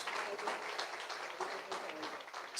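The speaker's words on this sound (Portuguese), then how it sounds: "A igreja aplaude ao Senhor por estas irmãs." A church congregation claps through a worship service, giving a dense, steady patter of many hands that fills the room, with talk faintly mixed in.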